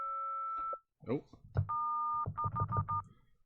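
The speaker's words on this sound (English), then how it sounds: "that is a phone noise." A synth plugin plays a phone noise: steady dial-tone-like tones, then clipped beeps in a quick keypad-like run. A brief voice speaks between the tones.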